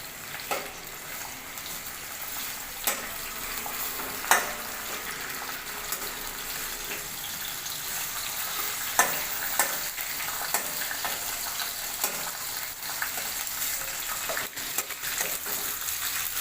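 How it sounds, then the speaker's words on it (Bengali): Chopped onions with a bay leaf fry in mustard oil in a wok, giving a steady close hiss and crackle with occasional sharp pops and scrapes of stirring. "পেঁয়াজটা ভাজা ভাজা হয়ে গেছে"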